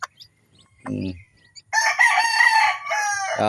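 Pet chickens close by: a short cluck, then a loud, drawn-out rooster crow that breaks off and continues in a second strained burst.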